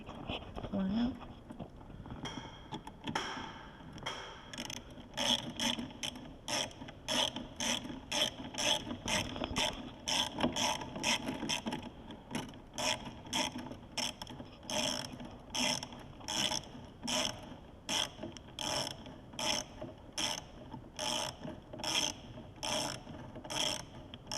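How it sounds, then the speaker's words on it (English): Hand ratchet tightening an air filter clamp on a 2011 Ram 2500, a fast run of sharp, evenly spaced clicks repeating for most of the stretch, close and fairly loud, with a voice talking over it. "Now we're gonna tighten our air filter clamp."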